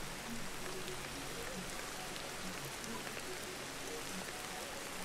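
Steady rain falls in the video game Ancestors: The Humankind Odyssey, an even, soft hiss of drops without pause, fairly quiet and alone.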